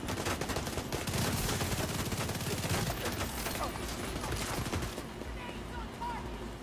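Rapid gunfire from The Division 2, an assault-rifle build, crackling in dense continuous bursts for about five seconds before thinning out, loud and close, with battle noise underneath.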